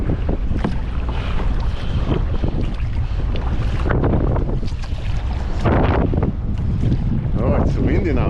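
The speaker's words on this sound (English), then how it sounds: "it's windy now" Strong, steady wind buffets the microphone while kayaking on the water at Kilim Geoforest Park in Malaysia, a loud, continuous rushing roar with gusty swells and a few faint splashes.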